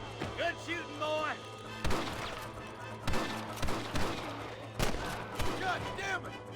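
Gunfire in Red Dead Redemption, sharp loud shots spaced every second or so amid a firefight, with game voices and other effects mixed in underneath.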